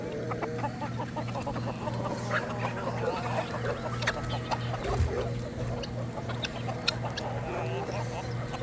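Chickens cluck and chatter in a farmyard flock kept alongside turkeys, ducks, guineas and quail, a busy overlapping stream of clucks over a steady low mechanical hum, with scattered sharper calls.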